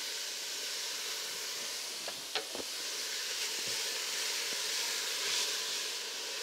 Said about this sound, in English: We want to just sweat them, we don't want to fry them.